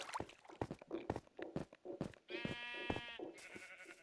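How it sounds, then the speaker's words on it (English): Sheep in the Minecraft video game bleat a couple of times, strained wavering calls standing out over rapid blocky footstep sounds, fairly quiet, with no speech. "oh, sheep. I see sheep up there."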